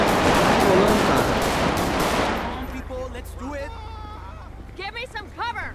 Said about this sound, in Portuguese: O guerreiro trocou tiro com uma pessoa aqui